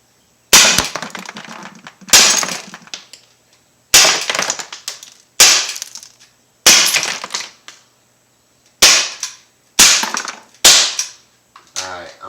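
Umarex SA-10 .177 caliber air pistol firing eight sharp, loud shots at a target during penetration testing, spaced about a second or more apart with short decays and no talking.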